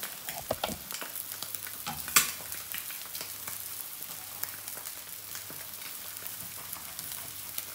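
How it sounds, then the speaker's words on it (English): Eggs frying in a pan, a steady close sizzle with scattered pops and a sharp clink from a utensil near the start. "I normally don't like fried eggs, but I started doing it my way, and now I love them."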